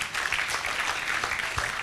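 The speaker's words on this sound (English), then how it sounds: "Please another round of applause for" Applause from an audience at a university event, a steady broadband patter of many hands lasting under two seconds at moderate level with no talk over it.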